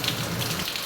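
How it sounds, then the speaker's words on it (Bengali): Heavy monsoon rain in Noakhali, Bangladesh, pours steadily as a dense, hissing wash of drops on surfaces, with no voices over it. "প্রচুর বৃষ্টি হইতেছে, কি করবো এখন?"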